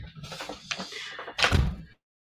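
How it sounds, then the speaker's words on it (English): A house front door opens with a short wooden clunk and latch rattle, close and fairly quiet, ending in a firmer thump before silence; no speech over it. "Front door open."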